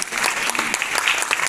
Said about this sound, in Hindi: ये पूरी टीम के लिए एक बार इसलिए जोरदार तालियां